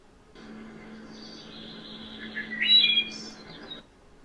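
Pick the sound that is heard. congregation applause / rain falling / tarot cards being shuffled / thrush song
thrush song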